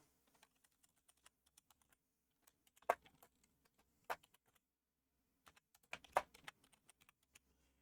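Sparse, quiet taps on a computer keyboard, with short clustered bursts of keystrokes separated by pauses in an otherwise silent room.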